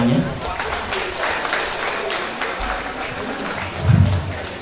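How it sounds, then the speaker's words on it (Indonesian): Audience applause at an alumni gathering of Yayasan Salafiyah, a sustained patter of clapping from a crowd with a voice speaking over it and a louder swell near the end. "Tepuk tangan semuanya."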